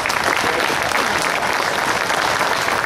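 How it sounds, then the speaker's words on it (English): A rally crowd claps together for a former congressional candidate, a thick, continuous wash of hands clapping at close range, steady and loud from start to finish. "Give Al a round of applause."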